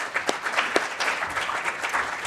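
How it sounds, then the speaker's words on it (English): A conference audience applauds panelists at the end of a discussion at a responsible gaming event, with dense continuous clapping that holds steady throughout. "How about a round of applause for them?"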